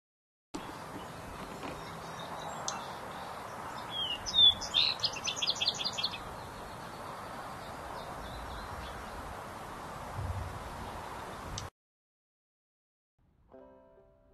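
A Vesper Sparrow in Oregon sings a single thin, high trilling phrase of chips and buzzy notes around the middle, faint against a steady background hiss, followed by silence.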